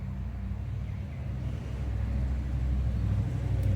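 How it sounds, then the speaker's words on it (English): A car passing outdoors gives a steady low rumble that swells slightly toward the end, with no talk over it. "That car just went by."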